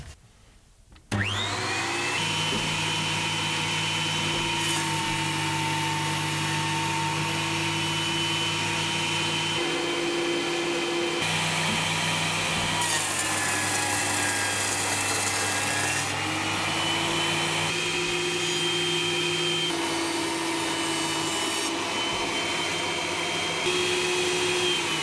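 An Axminster AP330ST portable thicknesser starts up with a dust extractor, giving a loud, steady motor whine and rushing air, with shifting bursts of planing noise as wood feeds through across the whole stretch.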